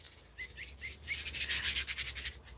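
A pet bird chirps in short, bright bursts at close range, the calls quickening into a rapid run of chirps midway, with no one speaking.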